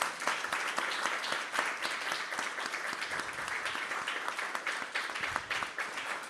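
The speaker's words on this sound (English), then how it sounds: "you can clap too" Audience applause at a devotional gathering, dense steady clapping from many hands throughout, fairly even in loudness, with a little murmur of voices underneath.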